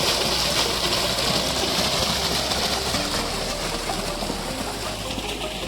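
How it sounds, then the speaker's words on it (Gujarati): A farm motor pump pouring water out steadily, a continuous rushing gush with a low engine hum underneath, close and even throughout with no talk. "આપણે પાણી કેવું કાઢે છે મોટર જોઈ શકો છો"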